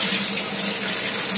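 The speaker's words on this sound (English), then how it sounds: "You move it, the water starts flowing" Steady, loud rush of water pouring from the base spout of a two-in-one hand and main shower unit into a bathtub, a continuous even flow throughout with no voices.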